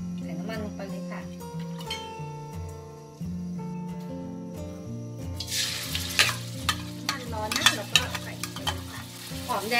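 Background music plays, then hot oil suddenly starts sizzling and crackling in a frying pan over medium heat, loud and steady with popping spatters.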